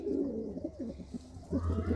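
A pigeon coos in low, soft repeated phrases near the microphone, the murmuring notes continuing throughout and swelling slightly toward the end.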